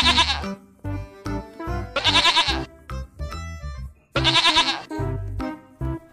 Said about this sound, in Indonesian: Wah, ada kambing, teman-teman.